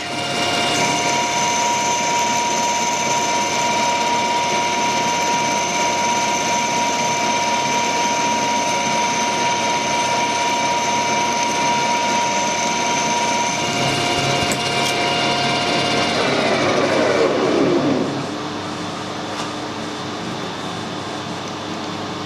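A 15/64-inch drill bit drilling metal: loud, steady high-pitched machine whine with a grinding mechanical edge running for most of the clip, then winding down abruptly near the end.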